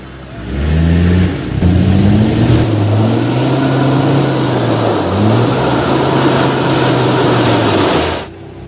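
A garbage truck engine revs hard while towing a line of stuck cars, a loud, close, sustained roar that rises and dips in pitch over several seconds before cutting off abruptly.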